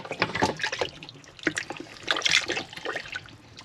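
Water splashing and trickling as a Franklin CX22 caravan water pump is washed out to clear slime and muck, an uneven run of close-up sloshes and dribbles, fairly quiet.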